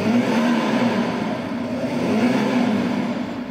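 A V8 engine sound played through a speaker mounted on a go-kart: a loud, steady, rumbling drone with a constant low hum that holds for the whole stretch, with no voices over it.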